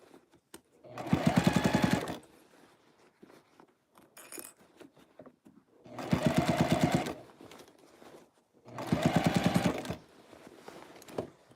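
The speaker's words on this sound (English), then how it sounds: "I sew it from the inside." A sewing machine stitches a sleeve from the inside in three loud, steady bursts of rapid needle clatter, each lasting one to two seconds, with quiet pauses between.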